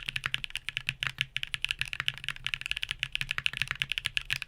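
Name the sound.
typing on keyboard with Hall effect switches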